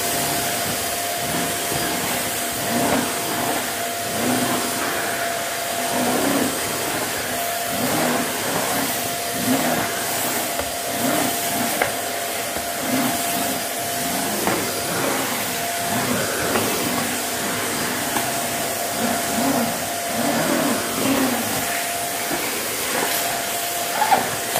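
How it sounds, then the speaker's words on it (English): A vacuum cleaner runs continuously with a steady whirring drone and a faint high whine, holding an even level throughout with no voices. "So let's move on to vacuuming."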